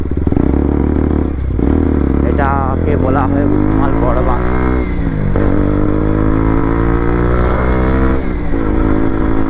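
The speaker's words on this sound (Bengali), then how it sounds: "বাইকের সাউন্ড কেমন আসছে" A motorcycle engine runs loudly and continuously on a main road in the early morning, its steady drone shifting in pitch as it rides, with someone talking over it.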